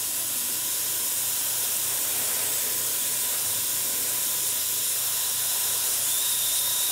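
A paint spray gun sprays thinned buff paint at about 17 PSI in a light coat, producing a continuous, even hiss with a faint steady hum beneath it, close and unbroken for the whole stretch.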